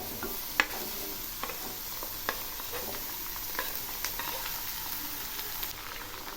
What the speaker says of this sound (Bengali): প্রথমে আমি এই আলুগুলো একটু হালকা করে ভেজে নেব।